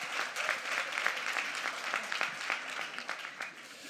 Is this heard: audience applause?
yes